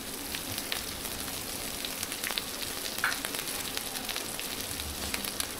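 Garlic, ginger and dried chili pastes fry in a pan for a potato and chicken wing, leg and skin curry, giving a steady close sizzle with scattered sharp pops and crackles.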